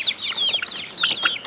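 Chickens in a small backyard flock of six in a home garden cluck in a run of short, high, overlapping calls at moderate volume, close by, with no talking.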